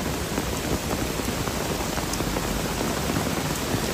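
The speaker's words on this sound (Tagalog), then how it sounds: "Ang lakas ng buhos ng ulan." Heavy rain pours down steadily by the Marikina River at night, a dense, loud, unbroken hiss of drops hitting the surfaces all around, with no voices over it.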